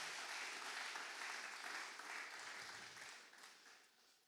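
A church congregation applauds and acclaims the Lord during a Sunday service, a dense sustained wash of clapping that holds steady, then gradually fades toward the end.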